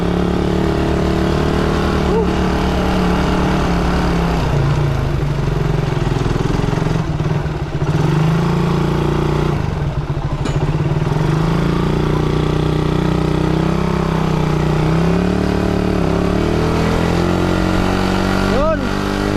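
A secondhand motorcycle with a newly adjusted clutch runs with a steady, throbbing engine note up close, its pitch rising and dipping slightly as the throttle shifts, loud and continuous throughout.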